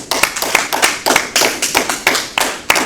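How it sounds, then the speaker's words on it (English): A handful of people clap in a quick, uneven round of applause, the sharp hand claps bunching into separate bursts, close and fairly loud with no talk over them. "round of applause for that"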